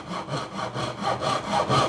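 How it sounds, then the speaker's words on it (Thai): A hand saw cuts a wooden tenon shoulder in rapid back-and-forth strokes, about eight rasping passes in under two seconds, close and clear with no talking. "เสร็จแล้วเราก็ใช้เลื่อยมือก็ได้นะครับมาบ่า"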